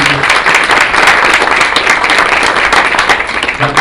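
An audience at a county council proclamation breaks into loud, dense applause that stays steady throughout and eases slightly at the very end.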